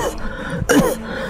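A person coughing and clearing the throat, a short rough burst near and alone, with a voiced hacking sound at the end.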